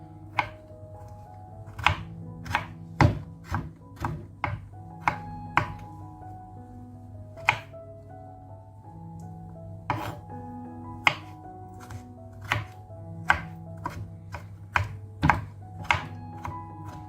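A knife chops ginger finely on a cutting board in a home kitchen, sounding as a steady run of sharp, close taps and thunks with irregular spacing over a quiet background.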